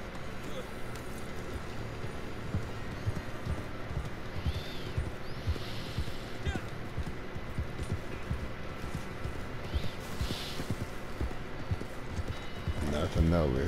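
A horse gallops toward the player in Red Dead Redemption 2, with steady clip-clop hoofbeats at a moderate level and a brief whinny, mixed with game ambience.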